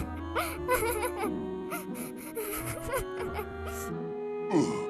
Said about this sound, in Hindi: वो बच्चे जोर से रोने लगे